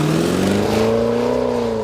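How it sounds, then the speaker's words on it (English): Jaguar F-Pace performance SUV engine revving in a radio advert, a loud close rising growl with the pitch climbing smoothly and holding high as the car accelerates. "the Jaguar F-Pace, a performance SUV with the DNA of a sports car"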